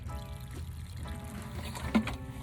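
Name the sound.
water poured onto a cactus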